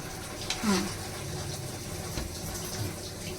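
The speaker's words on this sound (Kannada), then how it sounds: "ಈಗ ನೀರು ಬರುತ್ತೆ ನೋಡಿ" Water rushes into a washing machine as it fills, a soft steady gush with a brief louder splash near the start, heard faintly and close by.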